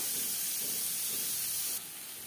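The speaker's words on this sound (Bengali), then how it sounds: "পেঁয়াজ অবশ্যই লালচে করে ভেজে নিতে হবে" Onions frying in a pan until reddish for a banana-stem (thor) dish, giving a steady, close hiss and sizzle that drops slightly in level near the end, with no talking.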